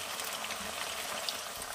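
Potato pieces frying in oil until reddish, a short, steady, close bubbling hiss at moderate level, heard alone without talk.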